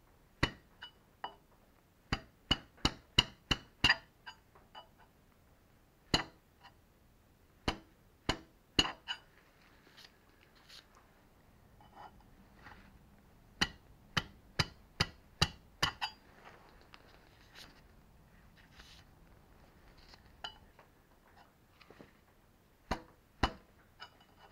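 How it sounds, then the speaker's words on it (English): A scraper chisel is bumped by hand against metal during frosting-style hand scraping, giving sharp, irregular clicking taps in quick clusters separated by short pauses, close and fairly quiet, no talk. "You hold the chisel upright, then bump it towards yourself with the other hand, hitting the scraper on one side."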